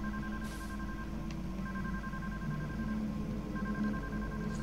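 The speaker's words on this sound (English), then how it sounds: "Phone call." A telephone rings in the Deadly Premonition video game, repeated electronic ring tones in a steady on-off pattern over a low background hum, fairly quiet and unaccompanied by speech.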